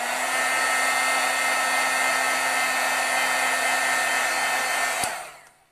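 A heat tool runs at a steady, loud blowing roar to heat-set pigment ink on a stamped image, holding evenly for about five seconds before cutting off and whirring down to silence.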